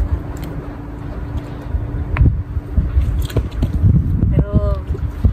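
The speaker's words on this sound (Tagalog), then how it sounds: "Medyo malakas kasi yung hangin eh." Strong gusty wind while fishing buffets the microphone in a loud, rough rumble, with faint thumps and a brief squeaky sound near the end.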